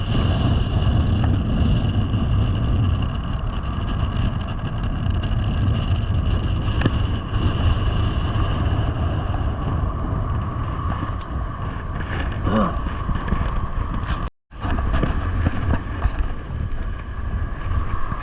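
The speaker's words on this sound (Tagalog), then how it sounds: "Lakas ng alon, lakas pang hangin." Strong wind roars steadily into the microphone while waves churn and slap nearby at a seaweed-strewn shore during a typhoon, a loud, continuous rush that keeps up throughout.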